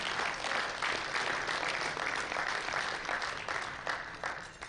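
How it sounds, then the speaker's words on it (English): Steady applause from an audience at a USA Powerlifting national meet, honoring medal winners in the 72 kg weight class; continuous clapping fills the whole stretch at moderate level and tapers slightly near the end, with no voices over it. "One more round of applause to the boys."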